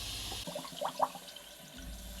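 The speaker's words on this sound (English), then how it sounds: "In the shower room, turn the tap on, and almost immediately that is backing up." Water running from the shower tap in a campervan shower room and backing up in the drain, a faint, low trickle and gurgle heard close by in a quiet space.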